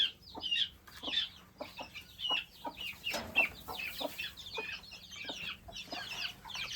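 Two-month-old chicks cluck and chirp in a steady scatter of short calls, fairly close, with no talking.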